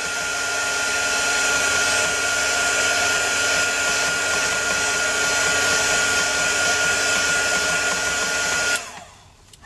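A hair dryer blows steadily and loudly at close range, drying hairspray on an index card, with a constant whine that runs unbroken until it switches off near the end.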